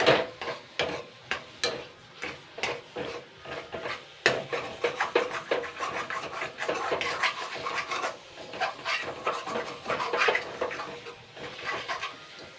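Taro greens being stirred in a pan while cooking, a vegetarian dish: a run of close scraping and clacking strokes, steady at first and then busier, over a soft sizzle.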